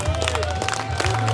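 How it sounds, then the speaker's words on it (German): Crowd applause and cheering at a dragon boat festival on the Faule See, a brief dense burst of clapping and hubbub mixed with a loudspeaker announcer's voice. "Dankeschön für den Applaus"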